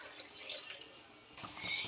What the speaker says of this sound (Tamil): இப்போ பார்த்தீங்கன்னா தண்ணி ஊற்றிக்கலாம்.